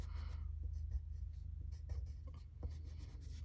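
A pencil traces and shades on paper, scratching softly in short irregular strokes over a low steady hum, close and quiet.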